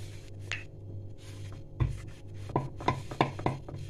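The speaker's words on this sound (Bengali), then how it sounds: "পরোটাটা বেলছি" A rolling pin works sattu paratha dough on a board, giving soft thuds and knocks, a few scattered then a quicker run of taps toward the end.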